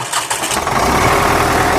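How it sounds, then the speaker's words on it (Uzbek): A Belarus MTZ 82.1 tractor engine runs loud and close, settling into a steady, even idle right after starting, with no voices over it. "Shu texnikamizni yurgizib shu yerda o'zida motor holatlarini ko'rsatamiz."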